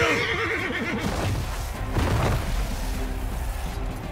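A horse in a video game neighs loudly and repeatedly over clip-clopping hooves and a dense backdrop of game noise, with no talk.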